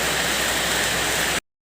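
Heavy rain pours steadily near the Meghalaya border at Hahim Aredonga, a loud, even hiss that cuts off abruptly into silence.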